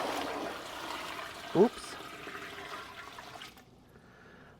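Tap water rushes steadily into a stock pot, a broad, splashy stream that stops about three-quarters of the way through. A brief spoken exclamation breaks in partway.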